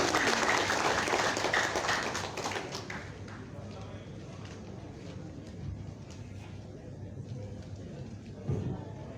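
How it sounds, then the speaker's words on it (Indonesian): Applause from a seated audience greets the newly inaugurated Pemuda Batak Bersatu North Sumatra board at an indoor ceremony, loud at first then thinning into scattered clapping as the room settles. "Bapak Ibu beri tepuk tangan yang meriah buat pengurus DPD Pemuda Batak Bersatu Sumatera Utara"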